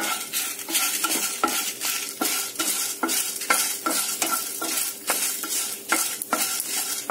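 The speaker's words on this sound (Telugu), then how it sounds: "ఇప్పుడు మిరపకాయలు ఒక నిమిషం వేగనిద్దాము" Dried red chillies roasting in a pan with a little oil for kootu masala powder: a close sizzle broken by quick regular spatula strokes, about two scrapes a second, with light metallic clinks throughout and no voices.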